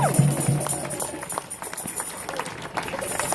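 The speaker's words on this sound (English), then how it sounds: "they need a huge cheer and round of applause." Crowd at a schools funding rally breaking into cheering and applause, a steady wash of clapping and voices at moderate distance that holds throughout.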